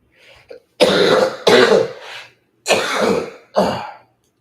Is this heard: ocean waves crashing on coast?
no